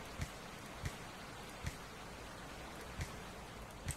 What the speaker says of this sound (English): Not a big fan of the rain sound. It sounds really horrible